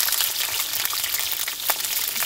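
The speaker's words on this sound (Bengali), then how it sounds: "মধ্যে আলু ভেজে নেবো, এখানে আলুটা ভেজে নেবো" Potatoes fry in hot oil in a pan, a close continuous crackling sizzle with scattered bright pops over a steady hiss.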